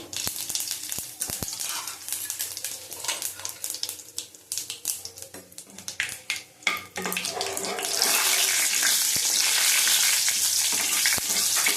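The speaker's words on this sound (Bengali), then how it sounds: "দেখো, ফোড়নটা ভাজা হয়ে গেছে।" Cumin, bay leaves and broken dry red chilies sizzle in hot oil for a tempering for vegetarian matar dal, a steady frying hiss that grows louder and denser toward the end, with scattered clinks.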